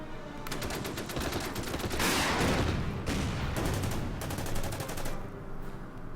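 Gunfire in the World War II strategy game Order of Battle: loud, rapid bursts of automatic fire and repeated shots that crackle continuously, with heavier blasts in the middle, and no voices.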